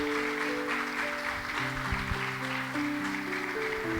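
A church congregation claps during a sermon, a moderate, steady wash of hands under sustained keyboard or organ chords that shift pitch partway through.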